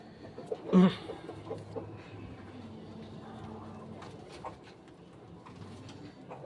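A blue bar racing pigeon coos softly nearby, one louder burst early on, over low background murmur and faint bird calls.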